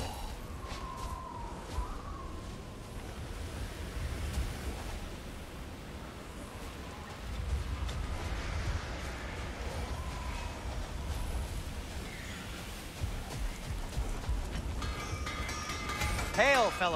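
Storm wind in Alfheim from God of War, a steady broadband roar with low rumble that swells around the midpoint and near the end, with faint game voices and effects woven through.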